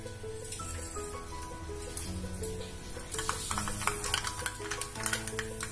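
Mustard seeds crackle and sizzle in hot oil in a pan while cooking a Tamil mixed-vegetable poriyal, a steady close frying hiss with scattered popping that grows busier midway, no talk.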